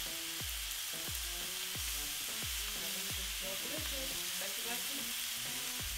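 Pork belly sears in a pan over high heat, giving a steady, close, even sizzle with regular soft clicking pops throughout.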